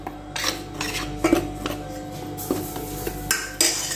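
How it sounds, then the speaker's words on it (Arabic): Henna powder mixed with dry herbs being stirred with boiling water in a bowl, giving a steady run of close scraping and clinking strokes with a few sharper knocks, and no talking. "كنبقى نزيد الماء غليان وكنبقى نحرك حتى القوام يوصل للشكل اللي انا بغيت"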